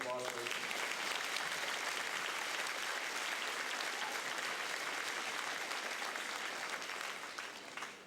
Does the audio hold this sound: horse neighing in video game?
no